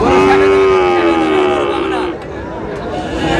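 A single long moo from a Sahiwal cow rings out near the start over busy cattle market chatter and crowd noise, then voices carry on.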